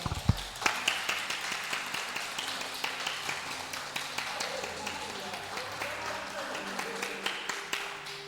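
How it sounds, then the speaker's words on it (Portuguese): A church congregation claps together during worship in a Brazilian Portuguese service, with a steady rhythmic beat of hand claps over a busy room tone and some background voices. "sente que Jesus merece uma salva de palmas"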